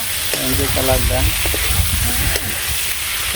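Food frying in a wok in a Bangladeshi village kitchen, a steady close sizzle lasting throughout, with a voice talking briefly over it at the start.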